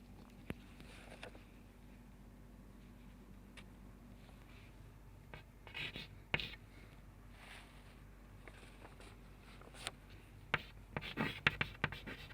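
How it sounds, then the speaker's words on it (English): Handwriting with a pen on paper during an English lesson: faint, quiet scratching strokes that come in short, scattered bursts, with a few sharper taps near the end, in an otherwise hushed room. "Let me write the"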